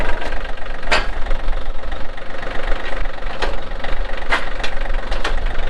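A small tractor engine runs steadily at idle, loud and close, with a continuous rough knocking rumble and a few sharp clattering ticks scattered through it.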